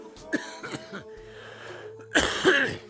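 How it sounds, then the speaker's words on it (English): Several harsh, throaty coughs come in two bursts, a short cluster at first and a louder pair after a brief pause. "what a cough"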